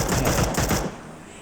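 A rapid burst of automatic gunfire rattles for under a second, then cuts off, leaving a faint tail; video game weapon fire.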